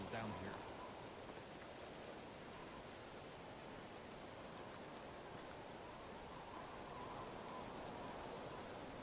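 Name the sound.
rain in Medieval Dynasty video game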